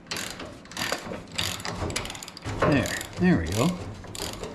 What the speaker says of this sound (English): When I loosen these bolts, you should see this sprocket assembly pop back from the weight of the chain.